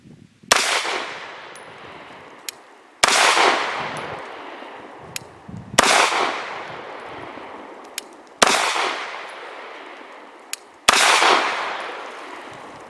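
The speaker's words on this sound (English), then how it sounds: "Now for 5 shots from 7 yards using Nosler 124 grain hollow point match ammunition." A Lionheart Industries Regulus Alpha pistol fires Nosler 124 grain hollow point match rounds at 7 yards: five loud, sharp shots about two and a half seconds apart, each with a ringing tail that fades out, and no speech.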